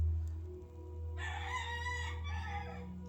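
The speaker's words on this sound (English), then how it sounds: "I'm wondering if the roosters are going to join us in this meditation." A rooster crows once, a single loud drawn-out cock-a-doodle-doo heard nearby over a low steady background hum.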